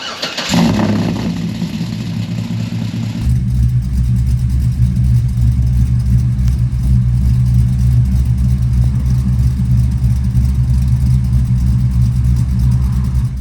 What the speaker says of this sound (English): I want you guys to hear a cold start.